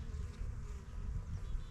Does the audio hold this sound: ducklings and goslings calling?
no